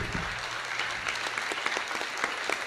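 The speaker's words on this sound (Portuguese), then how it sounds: "Gostaria de solicitar uma salva de palmas para curar um outro para a gente fechar a noite." An audience applauds at the close of an evening talk on the Fourth Industrial Revolution, with dense, steady clapping sustained throughout at moderate volume.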